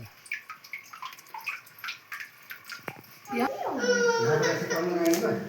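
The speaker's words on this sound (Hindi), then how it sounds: "यहाँ ये पानी हमेशा ऐसे ही टपकता रहता है।" Inside the Patal Rudreshwar cave temple, water drips in quick, irregular plinks, then a louder splashing rush of water rises with voices heard in the background.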